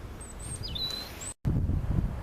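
Bird song in thinned pine woodland: several clear, high whistled phrases in the first second and a half, then a brief dropout followed by low rustling wind noise with no birdsong.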